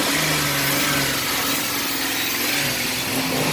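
An old Jeep XJ engine runs loud and close, a steady rough idle with revving throughout and no talking.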